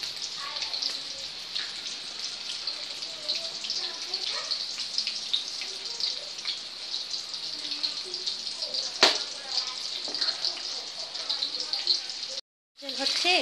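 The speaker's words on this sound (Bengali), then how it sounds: "এবার আমি এটাকে ফ্রাই করবো। তো তেল আমার হিট হয়ে গেছে, এবার এগুলোকে ছাড়বো।" Fish sizzling as it is lowered into heated oil in a home kitchen, a steady bright crackle and hiss running continuously and fairly close, with one sharper pop near the middle and a brief dropout near the end.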